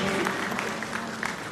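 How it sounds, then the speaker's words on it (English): Audience applause for a contestant at the Miss Eco International 2018 beauty pageant, a steady wash of clapping held at moderate distance with crowd noise beneath. "Give her an applause, ladies and gentlemen."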